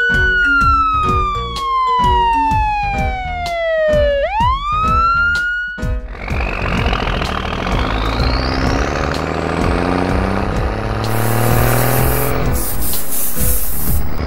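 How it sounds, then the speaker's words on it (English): A loud electronic police car siren sweeps down and back up in pitch. It then shifts into a rising wail mixed with a spraying hiss, all close and continuous. "Police car."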